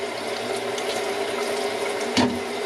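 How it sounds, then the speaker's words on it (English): Tap water runs steadily to rinse freshly developed film, a constant close hiss and rush with one brief louder splash near the end, and no voices. "We're gonna do a rinse."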